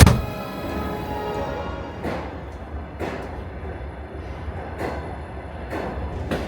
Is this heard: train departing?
yes